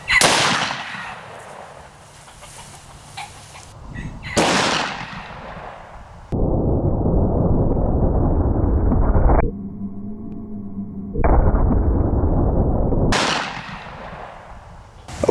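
A .357 Magnum fires a 158-grain hollow point into a ballistic gel block, with loud, sharp reports that ring out and decay, separated by long stretches of steady noise.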